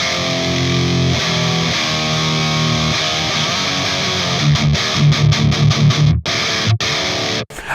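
Electric guitar played through a Kemper Profiler on the Powerball High Gain Plus profile: thick, distorted high-gain chords ring out, then tight palm-muted chugs and abrupt stops, loud and alone.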